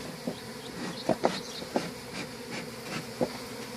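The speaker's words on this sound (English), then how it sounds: "There's still a shitload of bees out of this big ass one." A large swarm of bees from a big hive hums steadily in a low continuous drone, with individual insects buzzing loudly past the listener at close range.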